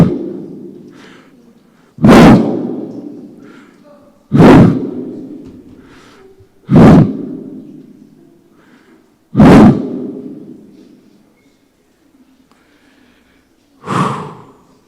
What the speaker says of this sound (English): As you can see, the man of God is now crying.